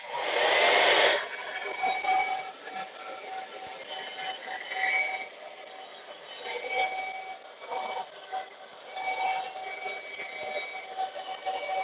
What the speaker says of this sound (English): I'm gonna turn on the dryer to dry this really quick